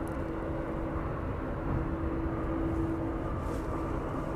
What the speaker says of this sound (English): We're just passing over Takeoffs now, the West Atlantic 737.